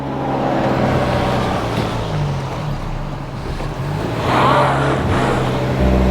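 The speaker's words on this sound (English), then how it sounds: "Let's foot to the floor. So what's happening is we got power going to one wheel only." A 2023 Kia Soul GT-Line two-wheel-drive crossover is floored on a steep hill with power reaching only one wheel, its engine a loud, continuous, close drone with no speech.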